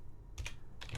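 Keys on a computer keyboard are struck in two quick, faint clicking bursts close by, with no voice present.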